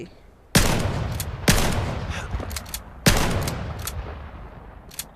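Three loud gunshot bursts from an overpowered gun in the VR game Vail, each a sharp crack with a decaying tail, followed by a few fainter pops.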